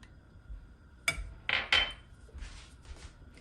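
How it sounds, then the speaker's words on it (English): A non-stick pot is set down and shifted on a stovetop, giving a few sharp metallic clanks and scrapes close by, followed by softer rattles. "take out your very best non-stick pot. I have mine here"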